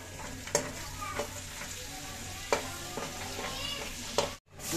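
Whole spices frying in hot oil for butter chicken, a steady close sizzle with occasional sharp clinks of a spoon stirring the pan, ending in a brief drop to near silence.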